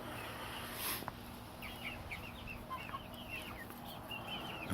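A small backyard flock of golden sex link chickens clucking softly, with scattered short calls over a steady low outdoor hum and background noise, fairly faint and at middle distance.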